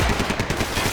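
Rapid gunfire in the video game Max Payne 3 cracks out as a close, loud burst of repeated shots in quick succession, dense enough to sound like automatic fire.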